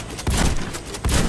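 Rapid gunfire in the shooter video game Warface, a close, loud burst of shots with a second volley about a second later.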